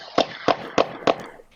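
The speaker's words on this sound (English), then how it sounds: "The shooter fired." Four sharp gunshots ring out in even succession at a house on a city boulevard, loud, punchy cracks about a third of a second apart, with no talking.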